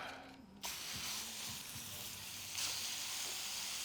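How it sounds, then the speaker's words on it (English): Salted burger patties hit a hot pan with a sudden faint hiss, settling into a steady, quiet sizzle that swells slightly near the end. "we're gonna get these in the pan and get it cooked up"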